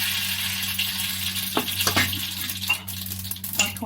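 Mustard seeds sizzle steadily in hot oil with a soft crackling hiss, broken by a few small pops and clinks nearby.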